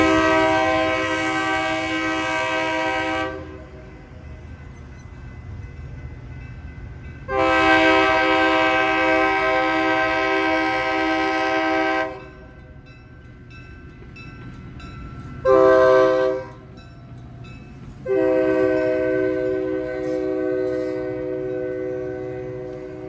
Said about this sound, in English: the final train we'll be seeing here at Mount Juliet is another inbound train, with, yet again, cab car 790 at the lead